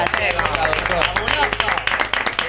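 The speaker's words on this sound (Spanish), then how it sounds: "Otro aplauso." Crowd applause and clapping with a dense, continuous rattle of hands, loud and steady for the whole stretch, with voices mixed in.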